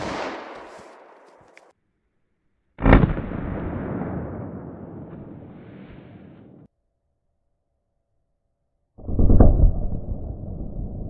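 A 10mm pistol loaded with Buffalo Bore lead-free ammunition fires into clear ballistic gel behind denim and MDF, giving loud, sharp reports that each ring out and fade before cutting off, with silent gaps between.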